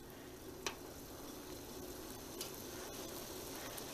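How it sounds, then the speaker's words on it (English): Strawberry peach jam at a rolling boil in a pot, a steady faint bubbling hiss with a couple of sharp little pops or clicks rising above it. "It's been 5 minutes, and see, we're already at a boil."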